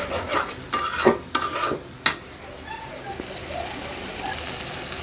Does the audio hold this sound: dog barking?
no